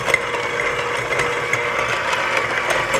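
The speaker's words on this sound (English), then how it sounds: "I like to use my hand mixer" An electric hand mixer beats softened butter, a loud, steady motor whir with a constant rattling churn that holds even throughout.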